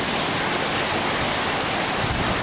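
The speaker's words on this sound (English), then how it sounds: "Wind, rain, trees pitching this way and that." A storm under a tornado warning sends wind and rain through pitching trees, a dense, steady roaring rush at full loudness for the whole stretch, with no voices.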